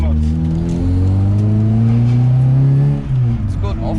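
Car with Skunk2 LCAs and a newly fitted exhaust and muffler revving hard, a loud, steady engine drone holding and climbing in pitch before easing off near the end, with people talking over it.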